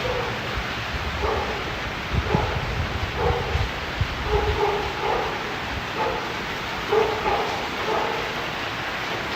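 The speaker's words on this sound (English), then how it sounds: "to hear dogs barking during a typhoon is not uncommon at all" Dogs in the Philippines bark again and again in the distance while a typhoon approaches, their faint woofs spread through steady wind and rustling noise.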